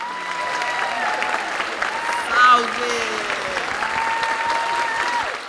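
A theatre audience at a literary event gives a standing ovation, with sustained dense applause and crowd noise throughout, a short shouted word from one person in the middle, and faint whistles above the clapping.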